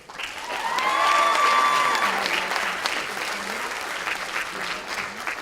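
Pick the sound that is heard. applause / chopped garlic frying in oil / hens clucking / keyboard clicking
applause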